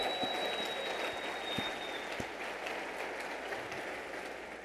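An audience at an Airlift/Tanker Association convention applauds, a steady wash of many hands clapping that holds evenly throughout, heard from a distance in a large hall with no talking.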